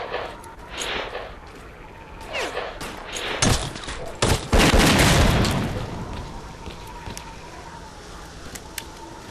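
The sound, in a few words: grenade explosions and gunfire in the S.T.A.L.K.E.R. video game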